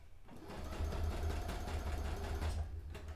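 A sewing machine stitches white dress fabric held flat with boning, running as a close, steady whir for a few seconds with no pause.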